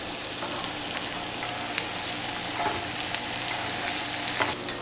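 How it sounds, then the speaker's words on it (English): Food cooking in melted butter over medium-low heat until caramelized, occasionally stirred: a dense, steady sizzle and crackle close by, with faint scrapes of the spoon scattered through and no speech. "And we're just gonna let this cook, stirring once in a while until they caramelize."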